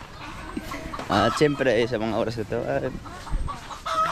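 Chickens clucking and squawking close by in a Filipino backyard, mixed with someone speaking over them throughout.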